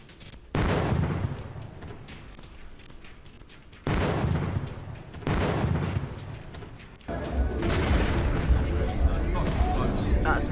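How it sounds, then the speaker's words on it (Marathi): Missile explosions during an attack on Dubai land as a few deep, heavy booms that each surge sharply, then leave a sustained rumbling roar building toward the end, with a voice heard in the mix. "आपण पाहू शकतो मिसाईल स्फोटाने दुबई देखील हादरलेली आहे"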